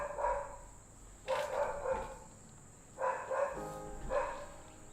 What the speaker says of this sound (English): I feel bad for this postman going past every day just to be barked at constantly.